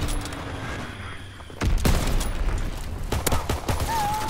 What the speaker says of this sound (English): Enemy bomb incoming. Get to cover.